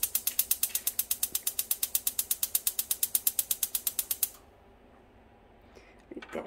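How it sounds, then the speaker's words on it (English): A gas oven's igniter clicks rapidly and steadily, about thirty crisp clicks in four seconds, then stops and leaves quiet room noise with a faint rustle at the end. "I'm going to put the oven on. It's on gas."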